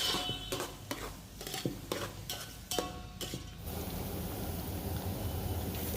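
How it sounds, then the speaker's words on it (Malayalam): Masala-coated soybean chunks being fried in oil, with clattering stirring and scraping in the pan over a steady sizzle that grows fuller and continuous in the second half. "അതൊന്ന് ഫ്രൈ ചെയ്തെടുക്കുക എണ്ണയിൽ."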